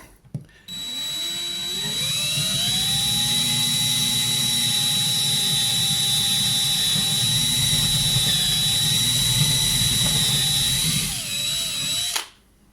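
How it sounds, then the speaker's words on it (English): An electric drill bores through a model railway station platform, a loud steady whine lasting about eleven seconds with a rising pitch at the start, then stopping abruptly, with no talk. "Never drilled on live online before, but here we go."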